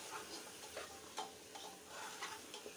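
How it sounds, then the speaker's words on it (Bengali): Faint, soft frying of green chilies and onions in a pan, with gentle rhythmic scrapes and taps of a spatula stirring them every half second or so. "নেড়ে চেড়ে কষিয়ে নেব।"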